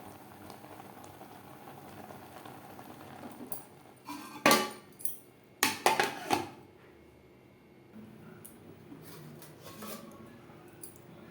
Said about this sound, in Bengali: ভাত আমি পুরোপুরি সেদ্ধ করছি না এখানে আমি এইটটি পার্সেন্ট মতো সেদ্ধ করে নেব